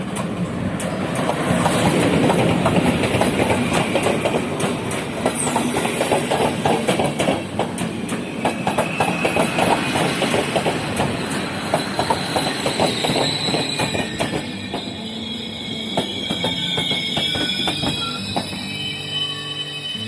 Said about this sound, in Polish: Wjeżdża pociąg Intercity Osypek, relacji Zakopane, Warszawa Wschodnia.